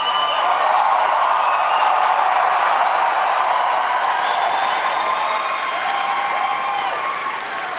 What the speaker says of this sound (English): Lukewarm crowd today